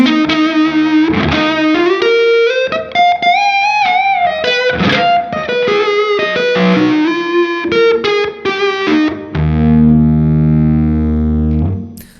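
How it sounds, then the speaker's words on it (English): Electric guitar through a Fjord Fuzz Odin IV fuzz pedal with its clipping diodes engaged, playing a loud, continuous distorted phrase of sliding notes that ends on a long sustained, compressed chord. "at that point you could add the clippers, and it will do this"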